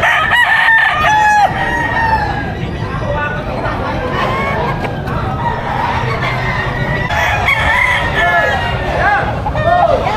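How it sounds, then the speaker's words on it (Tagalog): Several fighting-cock roosters of a bred high-action bloodline crow repeatedly at a poultry market in Padre Garcia, Batangas, loud and close, with clucking and crowd babble and people talking underneath. "Dinala lang dito para ipakita ang ganitong klaseng manok yung mga binibreed ni Kuya."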